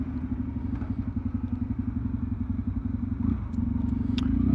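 A motorcycle engine revs steadily with rising throttle while climbing uphill through narrow village streets in Verzy, a continuous close, loud rumble with pulsing firing beats that swells toward the end.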